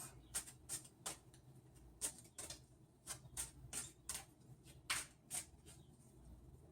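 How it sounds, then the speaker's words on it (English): Tarot cards are shuffled in a quiet room, giving a series of crisp, irregular riffling snaps and flicks, soft overall, with no talking. "cards have been shuffled enough"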